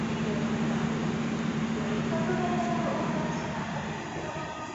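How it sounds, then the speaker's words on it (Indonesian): Pasar Senen railway station in Jakarta, with trains parked at the platforms: a steady rumble and hum of rail equipment plus faint metallic squeals, moderately distant and continuous, with background station noise. "Dan ini kondisi yang ada di stasiun"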